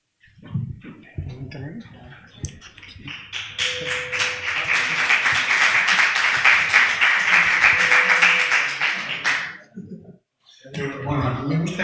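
Applause at an Austrian economics congress session swells into sustained clapping from a seated audience for several seconds, with a speaker talking before and after.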